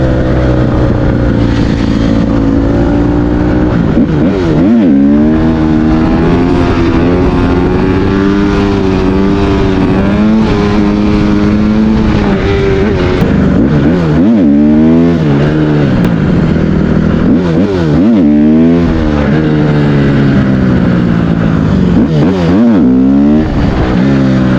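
A Honda CRF150RB dirt bike engine revs hard and loud throughout a wheelie, its pitch climbing and dropping repeatedly as the throttle is worked, close and continuous with no talk.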